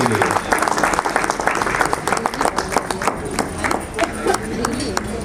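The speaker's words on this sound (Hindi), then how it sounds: "जोरदार तालियों से उनका स्वागत करते हैं" A crowd claps loudly to welcome the retiring chief controller of a rail yard, honoured with a turban at his retirement party; the applause is dense and continuous, with a murmur of voices mixed underneath.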